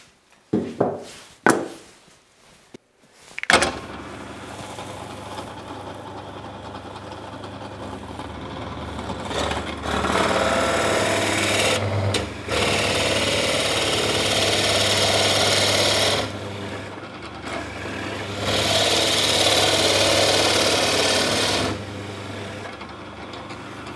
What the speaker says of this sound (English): So I have a 28mm bit in the drill press, and that's what we're going to drill our holes out.